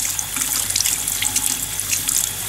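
Moderately warm tap water runs steadily into a sink, splashing over iceberg lettuce as it is washed; close and continuous with no talk.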